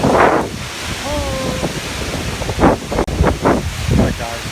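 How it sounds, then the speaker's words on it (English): Strong storm wind batters the microphone at the shore, giving gusty roaring buffets mixed with surf-like rumble, while a person briefly speaks or calls out over it. "The winds really picked up."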